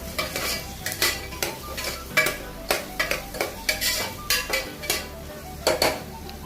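Onion and slit green chilies sauté in a pan, with a rhythmic series of stirring scrapes and clanks against the metal over a light sizzle, close and clear.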